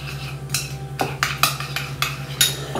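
A spoon clinks against a bowl while stirring an olive oil preparation meant for the cut side of tomatoes. It makes about half a dozen sharp, close strikes in loose rhythm over a low steady hum.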